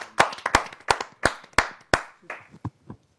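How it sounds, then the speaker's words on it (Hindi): Audience at a Hindi kavi sammelan claps to welcome a poet: a handful of sharp, separate hand claps in an uneven rhythm, close and loud, thinning out toward the end. "आइए जोरदार तालियों से उनका हम स्वागत करते हैं।"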